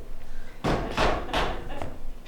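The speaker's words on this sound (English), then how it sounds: "Hark, more knocking." Knocking on a door during a neighborhood stage production of Macbeth: three or four heavy, resonant thuds spaced about a third of a second apart, fairly close and loud, with a quiet room tone between them.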